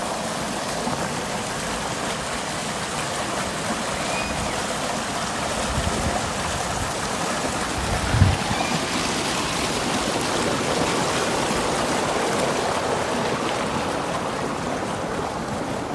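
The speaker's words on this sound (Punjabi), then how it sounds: "ਇਹਨੂੰ ਅੱਜ ਆਪਾਂ ਪਾਣੀ ਸਟਾਰਟ ਕਰਤਾ ਦੇਖੋ ਮੋਟਰ ਚੱਲਦੀ ਅੱਜ" Water gushes from a running pump motor into a wheat field, a steady, unbroken rushing flow close by with no voices.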